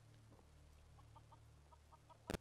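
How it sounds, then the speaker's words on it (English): Soft repeated clucks from a chicken in the video game Fallout 4, a handful of short calls over a steady low game hum, ending in a couple of louder bursts. "That's a chicken."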